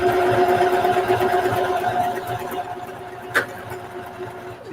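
A sewing machine stitches a seam on a small duffle bag with a fast, steady mechanical whir that slows and stops partway through, followed by a sharp click.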